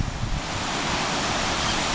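Loud wind buffets the microphone on a Surfside Beach, Texas shoreline while surf rolls in as a steady broadband roar, constant and close with no voices.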